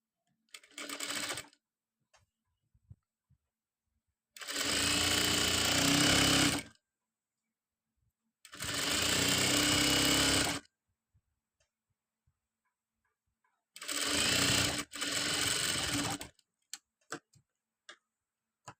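A sewing machine stitches a designer long gown in four separate runs of rapid, rattling whirr, each lasting one to two seconds, with quiet pauses and faint ticks between them.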